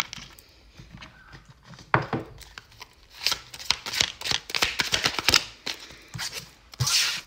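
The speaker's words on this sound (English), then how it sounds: "So let's get you some more cards." A deck of tarot cards is shuffled and the cards are drawn, making quick papery riffles and snaps that build into dense bursts of close, crisp card noise, with short pauses between them.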